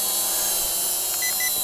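A KF600 portable drone's remote controller gives two short high beeps in quick succession when switched to speed two, heard over a loud steady hiss of motor or wind noise.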